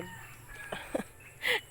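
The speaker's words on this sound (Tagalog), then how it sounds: "mga busy din yung mga manok." Farm chickens nearby cluck softly, then a rooster lets out a short, bright crow near the end.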